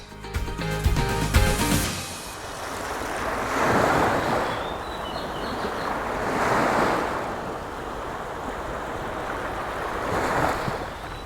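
Sea waves roll in and break against a seawall at Pranburi, Thailand, in slow surges every few seconds, each crash swelling into a loud wash of foam, with wind rushing over the microphone.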